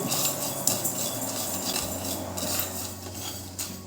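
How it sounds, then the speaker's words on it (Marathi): Cumin, fennel, cloves and black peppercorns dry-roast in a pan over low heat, a soft steady rasping and scraping with small metallic clinks of a spoon against the pan, faint and close. "जिरे लवंग व मिरे मंद आचेवर आपण हे दोन ते तीन मिनटं छान भाजून घेऊ"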